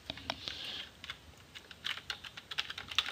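Typing on a computer keyboard while entering a programming exercise, a quick irregular patter of close key clicks with a few sharper taps toward the end, no talk.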